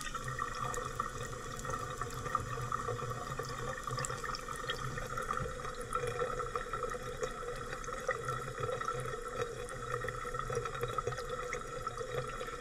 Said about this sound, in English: and then if I turn the water on,